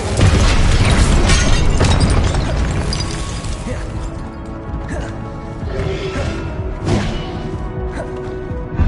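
A fiery Incendio spell blast goes off in Hogwarts Legacy amid dense battle noise, with repeated booms, crashes and shattering bursts continuing loudly through the whole stretch.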